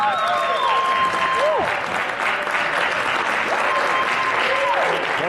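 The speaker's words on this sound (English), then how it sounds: "Let's give him a warm applause here" A concert audience applauding a guest, dense sustained clapping from a large crowd with a voice speaking over it, steady and loud from start to finish.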